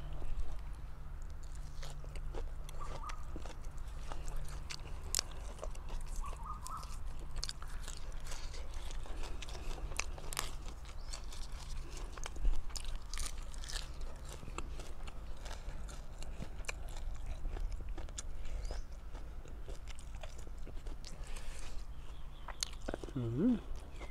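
Someone chews and eats an Isan raw beef and liver dish with chili dip, a close, continuous wet munching with occasional crunchy bites, with some talk.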